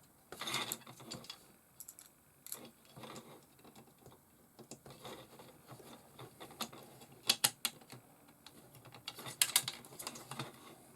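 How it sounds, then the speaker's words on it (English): Small screws being started into the plastic parts of a Tamiya Blackfoot 2016 RC model truck kit, heard as close, quiet ratcheting clicks and taps in irregular bursts with no talking. "I'm going to start the screws in slightly,"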